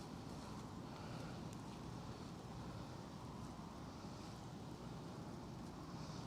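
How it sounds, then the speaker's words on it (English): Steady outdoor wind rushes past the microphone near an evening fire, a continuous broadband roar at low level with no distinct gusts or voices. "the smoke and wind is coming my way"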